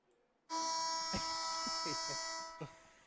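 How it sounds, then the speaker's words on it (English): A scoreboard buzzer at a high school football game sounds loudly for about two seconds, a harsh sustained electronic tone, while people talk and laugh over it nearby. "I have buzzer control."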